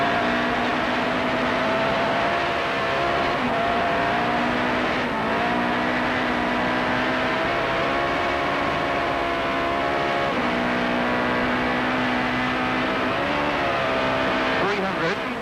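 A rally car runs flat out on a Tour Natal stage, its engine loud and close, holding high revs with shifting pitch as it climbs and drops through the gears.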